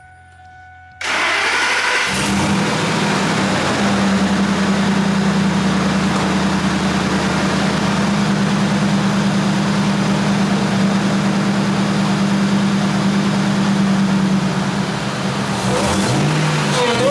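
A Ford Lightning Gen 2 truck engine, just after supercharger work, cranks briefly, catches and settles into a steady, loud idle that runs for many seconds before easing off near the end.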